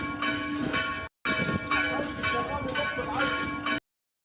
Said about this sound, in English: ringing the bell in his church